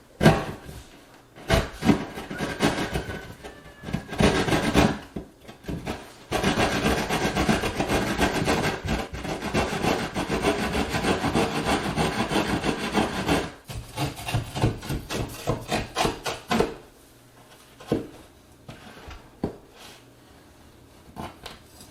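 A handsaw cuts through a kitchen wall to open a hole for range hood ducting, producing long rasping back-and-forth strokes, loud and close, with brief pauses and a quieter stretch of short strokes near the end.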